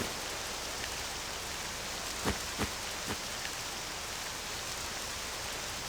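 Steady, even rain pours down in the Octopath Traveler 2 world, a poison-tainted downpour making a dense hiss with a few brief louder spatters, and no voices.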